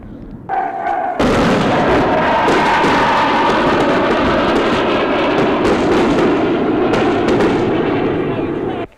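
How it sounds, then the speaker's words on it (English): Rocket fire in 1971 Bangladesh Liberation War footage, a loud, sustained roar of launches and blasts filling the scene after a brief lead-in, heavy and continuous, with talk faintly mixed in. "Firing rockets at what we assume is a new army colony on the south of the town."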